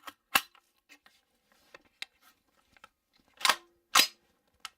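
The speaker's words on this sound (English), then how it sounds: "Okay, we'll take some shots here." Shots from a 224 Valkyrie rifle with a Faxon barrel at an indoor range, several sharp, isolated reports spaced a second or so apart with small clicks and handling noises between them, no talking.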